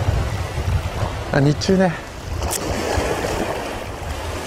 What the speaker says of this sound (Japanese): 風正面からですけど受けてます。